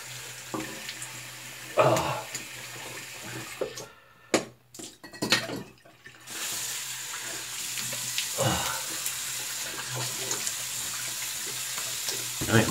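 Water runs from a tap as a razor is rinsed, a steady close splashing stream that breaks off briefly midway, with a few clinks, then resumes.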